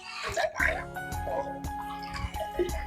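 Water poured into thick homemade curd to make buttermilk, a brief, soft splashing and dripping trickle heard close up and faint, with a voice-like murmur in the background.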